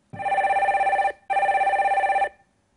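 A telephone rings as a call is connected on a radio call-in show, two long electronic ring bursts separated by a short gap, loud and clear with no voices.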